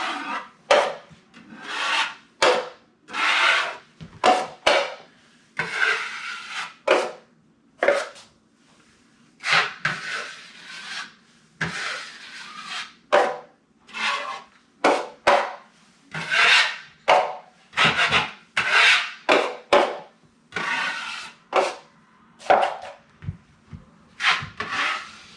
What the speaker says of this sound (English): Just lightly sand it.